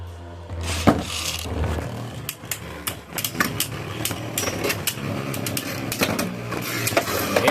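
Beyblade spinning tops battling in a stadium, scraping and grinding against the plastic bowl with sharp clacks of collisions, a continuous rough whirring rasp punctuated by bursts of impacts.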